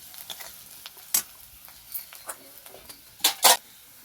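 Onion, ginger, garlic and green chili fry in a pan while a spatula stirs them often, giving scattered scraping clinks and bursts of sizzle, some loud and close, over a low crackle.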